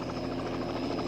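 A helicopter flying through mountain passes, with steady rotor thumping and a dense engine whine, loud and continuous with no voices.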